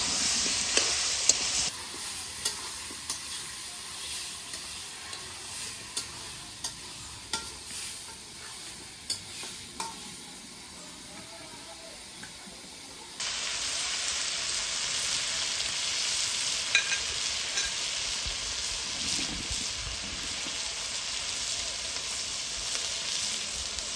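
Mutton for a Bengali curry being stir-fried in a pan, with a continuous close sizzle and repeated scraping strokes of a spatula that grow louder and brighter partway through, with no voices.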